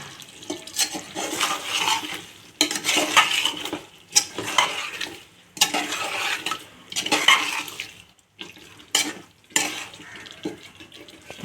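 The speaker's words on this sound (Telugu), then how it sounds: "వేసేసుకొని ఒకసారి మొత్తం అన్నీ కూడా కలిపేసుకుందాం బాగా కలిసేలా" A spoon repeatedly scrapes and churns a chicken biryani mixture with green chillies in a pot, making rhythmic bursts of wet stirring and metal clinks separated by short pauses, loud and close.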